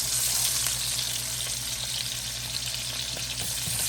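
Yellow onions stir-fry over high heat in a pan, a loud, continuous sizzle with scattered crackles and faint stirring clatter.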